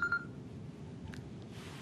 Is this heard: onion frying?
no